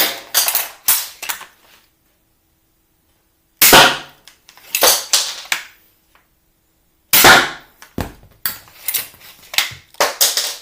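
A crossbow fires broadhead bolts at a target 10 metres away, giving three separate bursts of sharp, loud snaps and clacks, with silence between shots.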